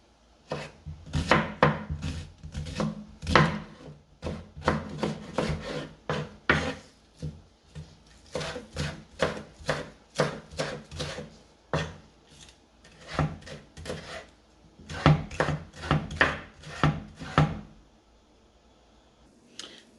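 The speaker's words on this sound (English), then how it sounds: "So I'll be cutting onion, thyme, scallion, sweet pepper, more garlic." Knife on a cutting board rapidly chopping onion, thyme, scallion, sweet pepper and garlic for Jamaican curry chicken seasoning, in close, crisp bursts of quick taps with short pauses between runs.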